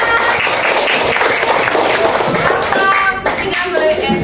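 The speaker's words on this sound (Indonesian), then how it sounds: "oke, kasih tepuk tangan" Classroom of students applauding after a group finishes presenting how to make sweet tea, a dense, steady patter of many hands clapping throughout, with voices mixed in.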